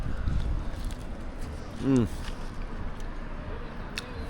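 Gusty wind buffets the microphone at an outdoor street food stand selling quesadillas in Playa del Carmen, a rough low rumble that swells and fades, with a brief voice partway through.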